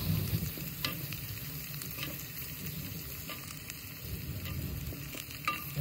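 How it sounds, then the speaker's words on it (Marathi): Fried potato pieces and garlic stirred into a hot tempering pan for a cauliflower and potato curry, a steady close sizzle with scraping spoon strokes and occasional sharper knocks against the pan. "चांगलं हलवून घेतो."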